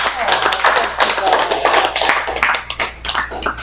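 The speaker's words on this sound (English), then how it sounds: "I'd just like to give her a round of applause for what she's done." A room full of people at a Republican Party meeting in Dorthy's restaurant in Ridgely bursts into close, dense hand clapping that runs steadily throughout, with voices mixed in under the applause.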